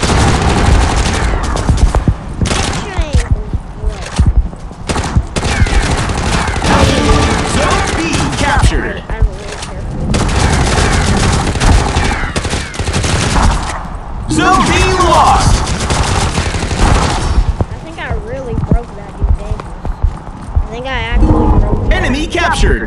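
Dense gunfire from a war video game match rattles almost nonstop through the whole stretch, loud and close, with bursts that resemble both automatic fire and single shots under a thick mix of other game sounds.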